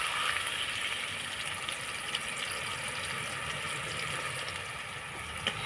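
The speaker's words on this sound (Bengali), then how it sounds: "এবার গুড় জলটা যে তৈরি করে রেখে দিয়েছিলাম সেটা দিয়ে দেবো এর মধ্যে" Jaggery water pouring into a pan of fried raw mango pieces for a sweet-sour mango pickle, a steady, continuous liquid gush and splash at close range with no talk.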